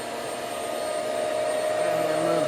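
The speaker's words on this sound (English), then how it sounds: "That's not a very good vacuum for hard floors" A Hoover Swivel XL Pet vacuum cleaner runs steadily on a hard floor, giving a continuous loud motor whine with a strong sustained tone that grows slightly louder toward the end.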